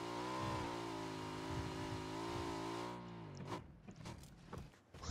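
A motorcycle engine in the battle royale video game PUBG holds a strong, steady revving drone, then drops off and breaks into sputtering bursts and clatter, loud and close with no talking.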